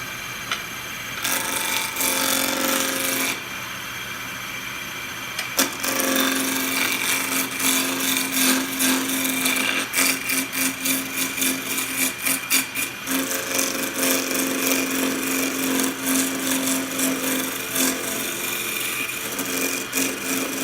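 A wood lathe runs steadily for wood turning, giving a loud, continuous motor hum and whine with rhythmic rattling, close up and with no talking.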